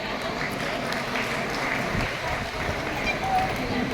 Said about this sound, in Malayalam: നമുക്ക് എല്ലാവർക്കും ചേർന്ന് അവരുടെ പ്രവർത്തനങ്ങൾക്ക് നല്ലൊരു കയ്യടി നൽകാം.